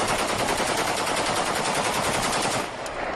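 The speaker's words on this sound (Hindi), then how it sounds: "बशर देश छोड़कर जा चुके हैं और उनके राष्ट्रपति परिसर के भीतर घुसकर विद्रोही फायरिंग कर रहे हैं" Rebels fire guns inside the Syrian presidential palace compound, a dense, continuous rattle of automatic gunfire filling the whole stretch, loud and unbroken, easing slightly near the end.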